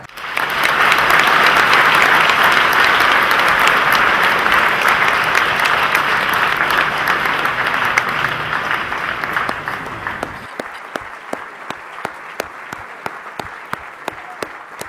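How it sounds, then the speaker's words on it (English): A standing audience at an awards dinner gives Ahmed Versi a loud, dense round of applause that holds steady for about ten seconds, then thins abruptly to a few scattered individual claps. "can you please stand up and give a warm round of applause to Ahmed Versi"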